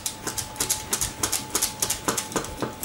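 A bread knife saws through dense homemade energy bars in a kitchen, making about twenty quick, crisp scraping strokes in a steady, even rhythm, close up and with no talking.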